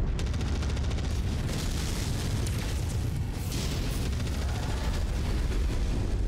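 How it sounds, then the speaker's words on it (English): A mech's ammunition cooking off in MechWarrior 5, a dense continuous roar of rumbling blasts and crackling pops that holds at full loudness for several seconds. "I think the ammo explosion has him."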